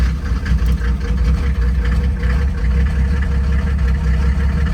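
A turbo diesel engine swapped into a Mercedes 380SL idles steadily and loudly up close, a deep, even rumble with no revving or talk over it.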